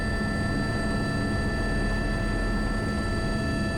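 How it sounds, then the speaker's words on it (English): An Airbus H125 helicopter doing long line sling work with a 36 m line, a loud steady rotor and turbine drone with a constant whine that holds without a break from start to end. "as I move the helicopter downwards"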